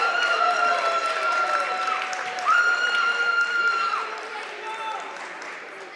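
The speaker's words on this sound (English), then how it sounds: "a huge round of applause for Azeredo, able to win that match" Crowd applause in a high school wrestling gym after a pinfall at a district tournament final, steady clapping and cheering that holds loud then eases toward the end, with whistling tones over it.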